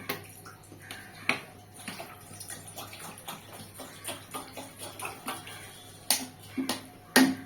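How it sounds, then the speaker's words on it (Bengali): Water poured into a pot of mutton curry cooked without oil: splashing and bubbling with irregular small pops and clicks, close by, with two stronger splashes near the end. "আর একটু জল দিয়ে দেবো।"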